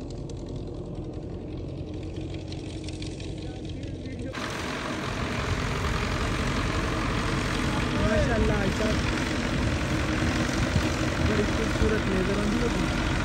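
A Belarus 94 tractor pulling a 14-foot laser land leveler across a field gives a steady, dense engine drone that grows louder after about four seconds and holds for the rest of the clip.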